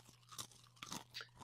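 A snack being crunched and chewed up close, several quiet, crisp bites in an irregular rhythm over a faint steady hum.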